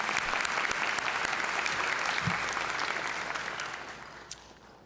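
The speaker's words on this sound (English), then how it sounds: "we'll still give her a round of applause." Sustained applause from an audience at a nursing school pinning ceremony, steady and full throughout, fading slightly toward the end.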